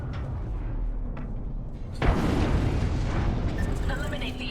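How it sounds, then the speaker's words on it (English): Frag grenade blast in an Apex Legends style shooter, a sudden loud boom followed by a rumbling burst and crackling debris over steady game background noise. "Frag thrown."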